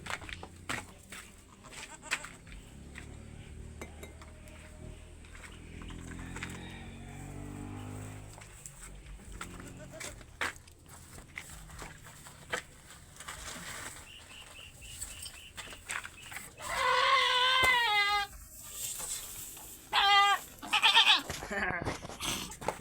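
Goats bleat on a rural farm during vitamin dosing, with several loud, wavering cries late on over a background of handling noise and faint shuffling.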